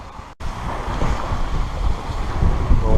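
A sailboat moves along at six knots, with loud gusting wind noise and rushing water against the hull that build steadily after a brief dropout.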